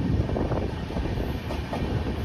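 Steady rumbling train at a railway station on the Agra to New Delhi route, a dense continuous low roar with a faint clatter, close and loud, with no voices.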